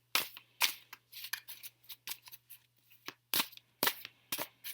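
Tarot cards being shuffled in quick crisp bursts, a run of sharp riffling snaps with short pauses, close and clear, with no talking.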